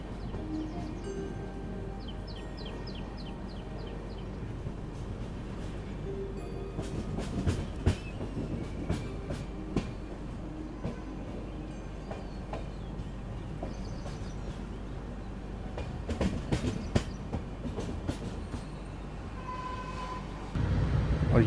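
An Indian Railways train runs through a ghat section, a steady loud rumble with rhythmic clickety-clack of wheels over rail joints and occasional metallic squeals, heard continuously without speech.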